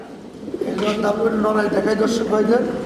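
A pair of yellow fantail pigeons coo steadily in a pigeon farm, a low rolling murmur running through the whole moment, close and fairly loud, with voices faintly mixed in.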